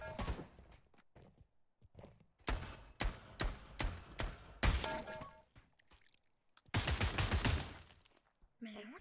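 Single-fire gunshots in the virtual-reality shooter Pavlov, a series of separate loud cracks in an uneven rhythm, with a longer burst near the end and a voice talking briefly.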